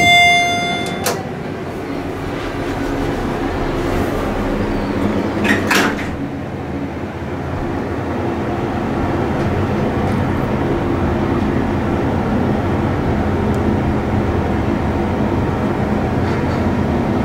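A Dover elevator in a 23-story building at The Palace in Myrtle Beach closes its doors with a brief thud and clatter, then the car travels with a steady, smooth, fairly quiet hum and rumble that continues throughout.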